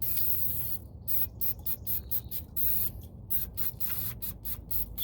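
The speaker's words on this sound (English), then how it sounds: "Now we're gonna grab the brake cleaner and we're gonna spray everything down." Brake cleaner sprayed onto the rear brakes of a 2008 Infiniti G35, covering rotor, piston and pads: a close series of sharp aerosol hisses in short, irregular bursts with brief pauses between them.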